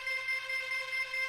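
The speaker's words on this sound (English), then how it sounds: "the only other sound I use in this beat, guys, is this jungle pad" A sustained jungle synth pad for a hard trap beat, a steady bright tonal wash with layered harmonic bands and gentle swelling, heavy reverb, playing alone without drums or voices.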